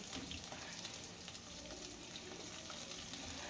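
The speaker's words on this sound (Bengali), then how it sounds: "তেলটাকে খুব ভালো করে গরম করে নিতে হবে। আর তারপরে এখানে দিয়ে দিতে হবে এই কাঁকরোলগুলো আর আলু।" Teasel gourd and potato pieces frying in hot mustard oil, a faint but continuous hissing sizzle that holds steady from start to finish, with no voices.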